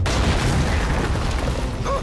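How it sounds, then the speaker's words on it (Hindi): A phone-triggered explosive charge goes off in a video game as a loud, deep rumbling boom that fills the whole short moment with dense noise. "अब धमाका होगा"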